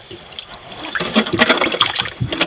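A freshly caught fish thrashes in water at sea off the Solomon Islands, giving loud splashing and sloshing bursts that build over a couple of seconds, close and alone.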